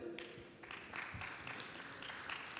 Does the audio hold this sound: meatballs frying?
no